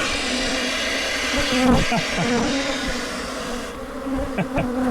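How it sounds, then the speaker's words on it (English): Loud, dense buzzing of a large swarm of Africanized bees from a disturbed hive, steady and close, with a few short knocks and rustles beneath the drone. "they actually did encounter an Africanized beehive"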